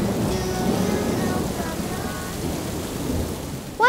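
A cartoon thunderstorm with steady rain, a deep rolling rumble of thunder underneath, and a sharp bright sound effect near the end; no one speaks.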